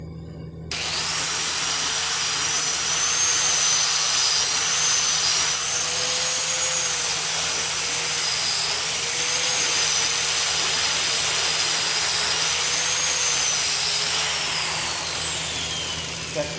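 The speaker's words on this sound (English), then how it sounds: "I'm going to pass the wire wheel over it" A spinning wire wheel brushes over a weld in a welding shop, a loud steady whirring grind that holds for about sixteen seconds with a faintly wavering pitch and no talk over it.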